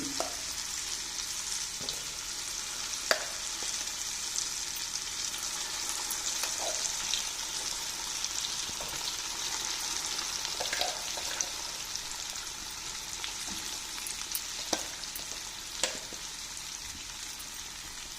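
Ground ripe red chili and tamarind chutney is added to a hot oil tempering of about 200 grams of oil, giving a steady, moderately quiet sizzle with occasional stirring clicks and taps, and no voices.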